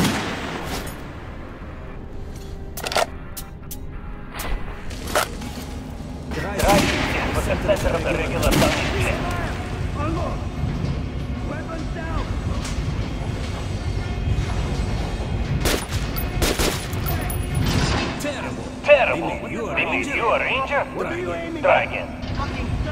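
Gunfire at an indoor shooting range in Metro Last Light, with several sharp shots scattered across the stretch over a steady background hum and game ambience, moderately loud and close.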